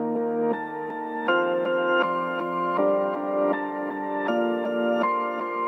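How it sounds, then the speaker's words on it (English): A piano melody run through a Gross Beat preset for an atmospheric trap beat, with sustained chords sharply chopped and stuttered in rhythmic gated steps, playing loud and clear without any voices. "this gross beat preset will make the piano sound like this"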